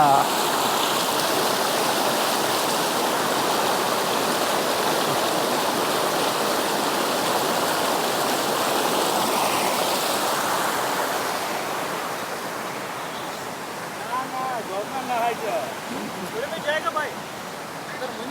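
A cold snowmelt stream in Betab Valley, Pahalgam, rushes loudly and continuously close by. It eases slightly toward the end, where several people start talking over the flowing water.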